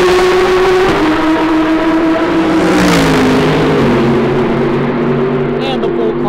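A GT3 race car roars past at speed during a time attack event, its engine pitch sweeping down as it goes by, with steady engine noise from other cars continuing throughout.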